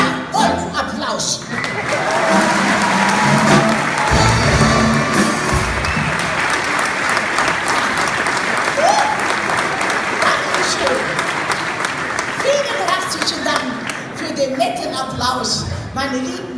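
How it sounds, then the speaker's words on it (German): A carnival-style nostalgia session audience at the Flora breaks into sustained applause with some cheering, a dense crowd roar lasting many seconds, with voices mixed in beneath it. "ja, und Applaus."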